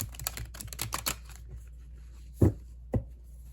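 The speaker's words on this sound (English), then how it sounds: "Let's see how easy it is for me to shuffle this large deck." A large vintage first-edition tarot deck being shuffled by hand, with a quick burst of riffling card clicks followed by a couple of soft thuds as the oversized cards are squared, close and fairly quiet.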